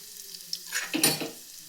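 Mustard seeds, cumin, urad dal and dried red chili hit hot oil for a spinach gojju tempering, giving a short, close burst of crackling sizzle that swells and fades within about a second.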